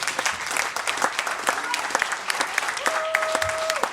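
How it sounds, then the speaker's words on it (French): Audience applause at a cultural night-long event, steady dense clapping throughout with a sustained tone entering near the end. "des applaudissements pour tout le monde, une dernière fois"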